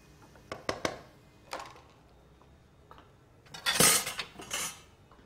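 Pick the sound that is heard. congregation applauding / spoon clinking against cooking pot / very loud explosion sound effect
spoon clinking against cooking pot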